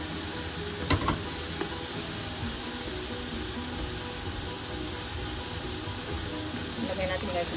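Pork sizzles steadily in a hot pan while cooking ginataang kalabasa, a continuous hiss of frying with a few stirring clicks, and someone talks over it.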